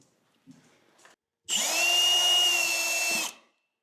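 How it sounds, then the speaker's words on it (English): After a couple of soft knocks, a power drill whirs loudly for about two seconds at a steady high pitch into a painted, water-damaged kitchen ceiling, then stops. "How do you feel about drilling into this ceiling, Anna, after the ages of painting it?"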